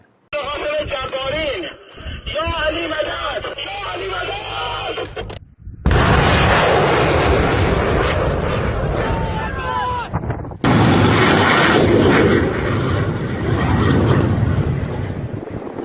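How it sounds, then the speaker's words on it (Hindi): Missiles launched at the American aircraft carrier Abraham Lincoln roar as loud sustained rumbling blasts in several long segments, with a voice chanting over the launches. "अमरीकी कैरियर पर मिसाइलें दागी जा रही हैं"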